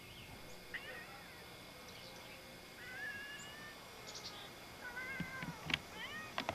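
A house cat meows several times in short, high rising calls, faint and indoors, with a few soft background thumps.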